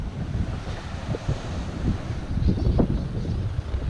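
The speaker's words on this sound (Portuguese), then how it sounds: "Esse é o mar." Ocean surf on the coast of southern Bahia, Brazil, near Cumuruxatiba, rolls as a broad, continuous wash, heard from a distance and mixed with heavy gusting wind buffeting the microphone.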